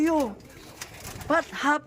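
A racing pigeon back home after a flight from Calbayog, Samar gives a few close coos and soft calls, with a person speaking around them.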